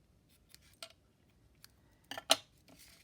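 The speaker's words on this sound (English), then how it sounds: "I'm just going to cut this one a little bit shorter" Scissors snip through frayed vintage ribbon for a journaling tag, a few quiet, scattered cuts with a sharper double snip near the end, close and alone without talk.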